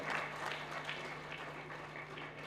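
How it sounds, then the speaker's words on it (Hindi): A lecture-hall audience at a memorial lecture claps for a visiting Delhi Police DCP, a faint, distant-sounding patter of applause over a steady low electrical hum. "एक बार तालियां बजानी चाहिए उनके लिए।"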